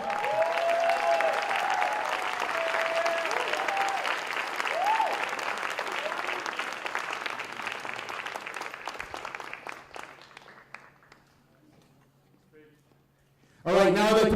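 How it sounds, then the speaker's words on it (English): Loud audience applause at a celebrity dance-off event rolls on for about ten seconds, fades to near silence, then bursts back briefly at the end. "Here he is, loud applause,"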